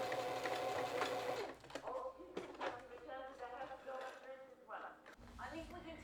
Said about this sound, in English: we're just going to sew a straight stitch fully up both sides of that with a 1/4 inch seam allowance on either side